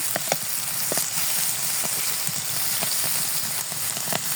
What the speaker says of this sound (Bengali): গোশটা আমি এখন তুলে আমি কড়াই উঠে এখন হালকা তেলে ভাজবো